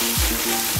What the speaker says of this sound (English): We are toasting the rice, and when you start to hear that sounds like a small stone